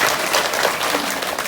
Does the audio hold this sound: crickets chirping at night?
no